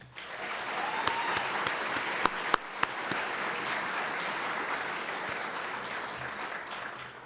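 Sustained audience applause at a university leadership awards ceremony honoring a student recipient, steady dense clapping from a crowd that holds at an even level throughout with a few sharper individual claps standing out.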